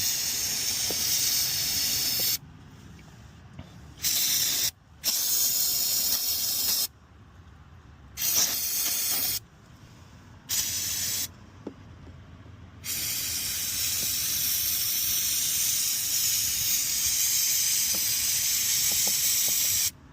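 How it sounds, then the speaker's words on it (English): Spray cleaner hisses onto the engine area of a Nissan Stagea in several close, loud bursts separated by short pauses, then settles into one long continuous spray. "let's see if I can"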